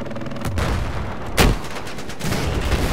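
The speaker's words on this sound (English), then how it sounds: "That was a really delayed explosion." A delayed landmine explosion in the Battlefield video game erupts as one sharp broadband blast midway, set amid a continuous dense wash of gunfire and battle noise.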